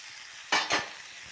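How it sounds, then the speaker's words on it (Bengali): Fried cauliflower and eggplant stirred into a curry frying in a pan: two short, close scraping, sizzling strokes over a quiet background. "এবার আমি আগে থেকে ফুলকপি আর বেগুন ভেজে রাখা ওইগুলোকে এবার এর সাথে মিশিয়ে দেব।"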